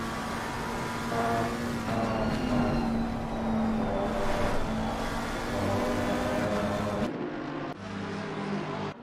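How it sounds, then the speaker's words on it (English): McLaren GT3 race car engine at full race pace, a sustained loud, steady drone with shifting revs and a gear change near the end, heard alone without talk. "enjoy the beautiful engine sounds of this McLaren GT3 car"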